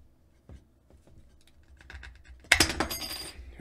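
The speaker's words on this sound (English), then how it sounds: "I got these things, which are called tin snips." Tin snips cut metal for a homemade 40 dB RF power tap, with a few quiet clicks and scrapes leading into a sudden burst of sharp crunching snips and metallic clatter.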